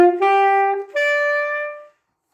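A woodwind instrument played with correct embouchure sounds two clear, sustained notes, a lower one and then a higher one, with a short break between them, alone and close.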